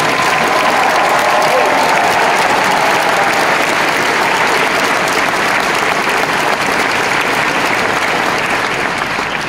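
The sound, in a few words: audience applause for the host at a graduation ceremony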